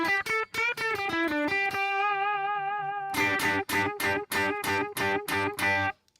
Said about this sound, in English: So what we can actually do is make the delay the lowest it can go,